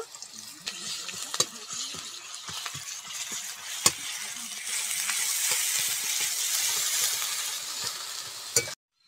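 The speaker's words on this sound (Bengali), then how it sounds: "পেঁয়াজ আর রসুনটা ভালো করে ভেজে নিয়েছি" Onion and garlic frying in a pan, a steady loud sizzle that swells in the second half, with scattered clinks and scrapes of a utensil stirring and a sharp knock near the end, no talking.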